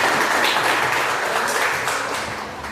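A crowd gathered for a church testimony service claps loudly and continuously, a thick wash of hands that tapers slightly toward the end.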